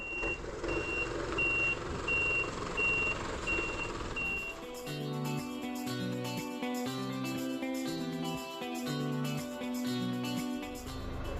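A truck's reversing alarm repeats in steady evenly spaced beeps amid engine rumble, after which loud rhythmic music takes over.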